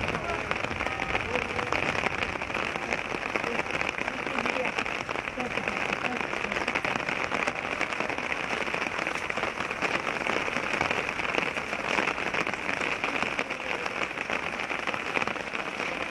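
Heavy rain pours steadily in Târgu Neamț, a dense continuous hiss of drops hitting surfaces, close and loud for the whole stretch with no pauses.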